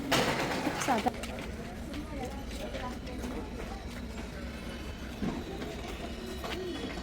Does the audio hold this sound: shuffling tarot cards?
no